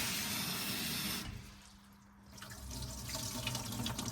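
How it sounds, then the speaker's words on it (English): Tap water runs into a sink while grapes are rinsed, a steady rushing stream that drops to a quieter trickle midway and then swells again with splashing. "I'm going to just give them a little wash."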